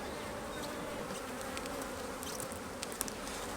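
Honey bees buzzing around an open beehive during a hive inspection, a steady, dense hum of many insects close by with a few brief individual passes and no talking.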